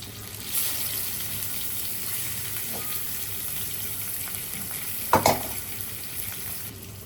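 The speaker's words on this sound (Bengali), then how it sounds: "চিংড়ি মাছ আমি একটু হলুদ লবণ দিয়ে মেখে রেখেছিলাম একটু ভেজে নেই" Shrimp marinated in turmeric and salt fry in oil for a bottle gourd greens dish, with a continuous close sizzle and a sharp clatter of the pan or utensil partway through.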